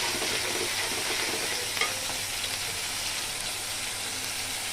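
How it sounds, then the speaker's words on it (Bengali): Ginger and garlic paste frying with spices in a pan while cooking fish with okra, a steady bright sizzle throughout with one brief scrape of stirring, close and alone with no talk. "আমি মশলাটাকে সুন্দর করে ভেজে নিব"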